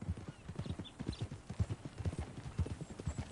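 Horse hooves clip-clop at a steady walking rhythm in Red Dead Redemption 2, close and clear, with a faint whinny, in a Western ranch setting.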